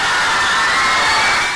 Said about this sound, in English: screaming and euphoria outside a Buenos Aires hotel.